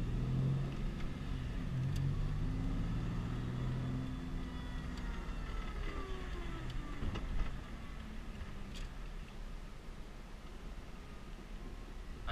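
Inside a modified Ford Mustang drift car while driving, a low rumbling engine and road noise hold steady with a few shifting tones as it accelerates and eases off, fairly quiet overall.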